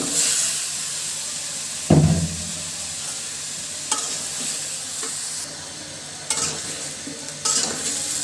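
Bottle gourd is stirred into a spice paste frying in a pot, giving a continuous sizzle with a heavier thump near the start and occasional stirring scrapes.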